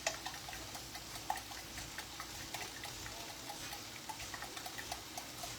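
Eight eggs are whisked in a bowl, making a quick, steady ticking of the whisk against the sides. The taps are faint and continuous over a low background hiss, with no talking.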